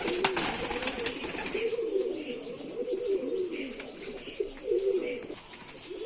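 An old female Giribaz pigeon from Rajshahi coos in repeated soft, throaty rolls, close by, with faint chirps and light rustling in the background.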